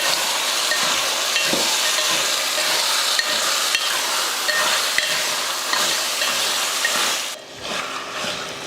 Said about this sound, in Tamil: இந்த மாதிரி சிக்க கறியை வந்து நல்லா வதக்கியாச்சு எண்ணெயிலேயே